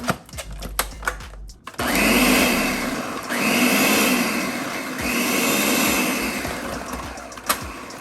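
Food processor pulsing chopped carrots for lentil soup, three separate loud whirring bursts of a couple of seconds each, close up, with short quiet gaps and a few light knocks between them.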